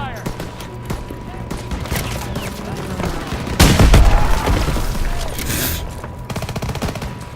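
Dense wartime gunfire fills a Call of Duty: WWII firefight, rapid rifle and machine-gun bursts rattling continuously with a heavy boom near the middle, and voices calling out beneath the shooting.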